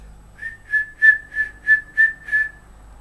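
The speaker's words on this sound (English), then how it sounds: "Whistling is when you blow air out of your mouth to make sort of like your own instrument." A single person whistles a short run of seven or so evenly spaced, bright repeated notes, fairly close and clear with no talking.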